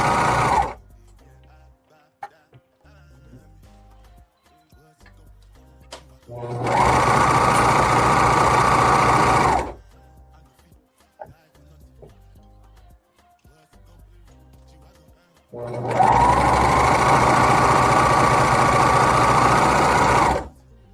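Sewing machine stitching a cropped cardigan during a live sewing session, running in two loud, steady bursts of about three and five seconds, with quiet gaps of small handling noises between.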